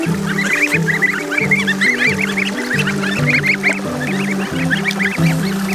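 A flock of geese honks loudly and continuously at a creek, with ducklings among them, the nasal calls overlapping in a busy, close chorus and no voices heard.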